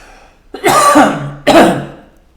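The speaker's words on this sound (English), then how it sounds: "See that little cough?" Two short, close coughs, each a rough throaty burst followed by a brief fade, spaced about a second apart.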